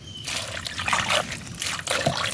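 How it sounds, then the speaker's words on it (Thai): Water is poured onto a surface before casting a cement mortar edging at the front of a house, a steady close trickle and splash that continues for the whole stretch with slight surges. "ก่อนทำเนี่ยเราราดน้ำไปหน่อยนะ"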